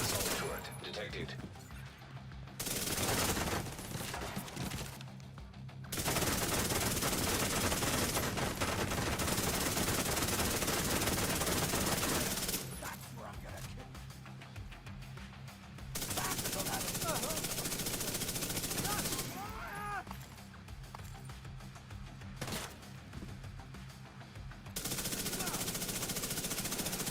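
An assault turret in The Division 2 rattles off sustained machine-gun bursts, long stretches of dense fire broken by short pauses, loud and close amid a busy combat mix.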